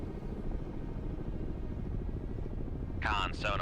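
In the submarine game Cold Waters, a helicopter's steady rotor rumble drones overhead, loud and continuous, and a brief voice breaks in near the end.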